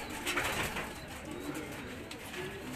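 Pigeons cooing outdoors, soft murmuring calls over a steady broadband background hiss, fairly faint and continuous.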